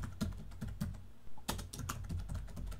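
Typing on a computer keyboard, quick clusters of soft key clicks with a short pause in the middle, faint and close with no voice.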